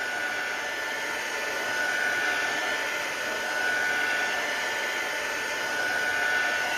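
A heat tool blows steadily over a stamped wedding card to dry it, a constant loud airy whoosh with an even hiss throughout and no voices.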